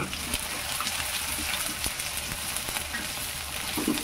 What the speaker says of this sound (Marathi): कांदा टाकायचं, असं तळून घ्यायचं मस्त.